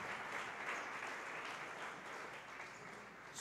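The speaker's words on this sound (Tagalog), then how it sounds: "pumalakpak ng malakas sa ating mahal na Panginoon" A church congregation applauds loudly during a preaching service, with dense, steady clapping that holds for several seconds without a break.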